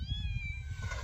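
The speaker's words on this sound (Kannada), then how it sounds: "2 ಬೆಕ್ಕಿನ ಮರಿ ನೋಡ್ರಿ ಬಂದಾವು" A kitten gives a single short, close meow on a farm where goats are kept, rising and then falling, with nothing else heard over it.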